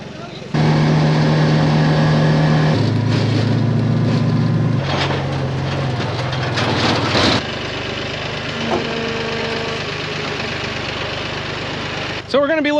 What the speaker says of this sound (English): we also got Joel with his tractor